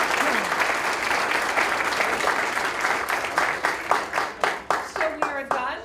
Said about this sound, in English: So please give them one more round of applause.